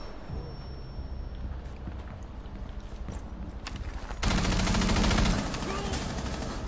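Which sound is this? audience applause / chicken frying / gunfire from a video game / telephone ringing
gunfire from a video game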